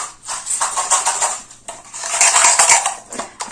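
Charms shuffled and mixed by hand, a dense metallic clinking and jangling in two long bursts with a short pause between, close and loud, no talk.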